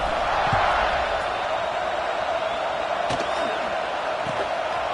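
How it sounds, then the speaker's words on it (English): A football stadium crowd buzzes after a score, a steady, dense roar that holds at a constant loud level throughout with no breaks. "this crowd is buzzing after that last score"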